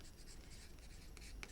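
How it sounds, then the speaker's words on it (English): A pencil marks on paper for a mini album, a faint close-up scratching that is steady throughout, with a couple of slightly sharper strokes near the end and no talking. "Let's get our pencil and we'll mark"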